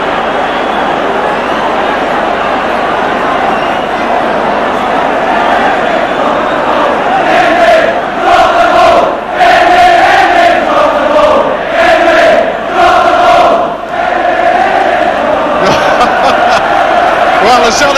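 A football crowd at a 1988/89 Celtic versus Hearts league match reacts to a free kick decision, a roar of jeers and whistles swelling over a steady stadium hubbub while a commentator talks.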